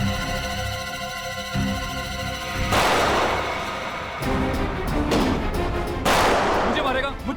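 Gunshots ring out in a Hindi crime drama scene: several loud, close blasts with bursts of rapid fire, set against a sustained dramatic score.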